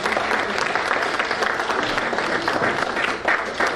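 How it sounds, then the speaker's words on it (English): Audience applause at a Business Alliance 2024 gathering, a steady dense wash of clapping that holds loud and continuous from start to finish with no voices over it. "please clap your hands for him."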